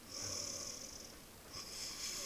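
A man snores loudly like a pig, with rough, snorting breaths that rise and fall over a couple of seconds, close by and without talk.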